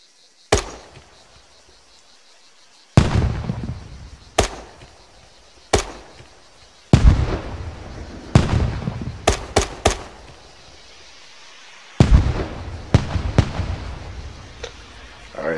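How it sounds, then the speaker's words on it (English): M32 MGL six-shot grenade launcher firing in a military shooter game: a string of sharp, loud blasts, some single and some in quick pairs, each with a booming decay, spaced irregularly over about fifteen seconds. "This is the M32 MGL, which is a grenade launcher."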